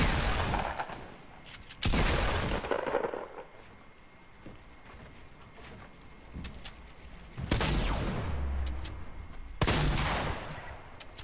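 Gunfire in the Fortnite battle royale game comes in a few loud, broadband bursts a couple of seconds apart, with quieter game ambience between them and no talking.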